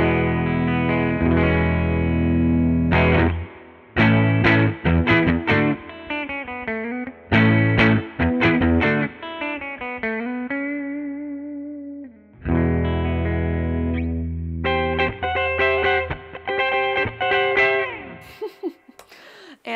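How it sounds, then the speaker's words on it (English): A distorted electric guitar using its neck and bridge pickups together plays chords and short riffs with brief pauses between phrases, loud and close, with no talking. "So here's what this pickup sounds like with the neck and bridge pickup only."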